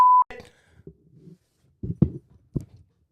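A short, loud censor beep, a single steady tone about a quarter second long, cuts over the start of a podcast conversation, followed by scattered low speech-like sounds.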